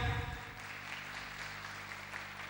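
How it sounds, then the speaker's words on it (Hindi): An audience at a motivational business meeting gives a round of applause, moderate, steady clapping from a roomful of people following a short burst of louder sound at the start. "तो आप लोगों के लिए जोरदार तालियां हो जाएं"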